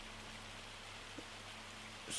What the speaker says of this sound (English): Get rid of this rain.